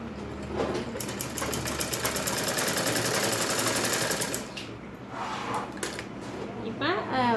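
A sewing machine stitches a folded blouse seam in quick, rattling bursts that stop and restart, loud and close, with someone talking in the pauses.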